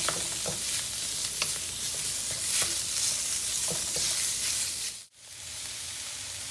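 Spring roll filling for Taiwanese spring rolls sizzles steadily in a frying pan, loud and close, with occasional stirring scrapes; the sizzle cuts out abruptly near the end, then resumes a moment later.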